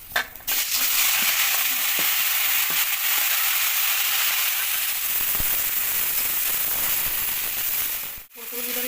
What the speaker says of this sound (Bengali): তেলে ফুলকপি ভেজে নেবো।